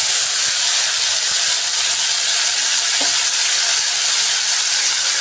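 Potatoes go into hot oil with slit green chillies, raising a loud, steady, close hiss and sizzle with a few faint clinks, and nobody speaks.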